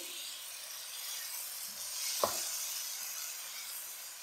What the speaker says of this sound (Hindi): अदरक लहसुन का पेस्ट, साथ ही ये कटे हुए टमाटर मिक्स करेंगे।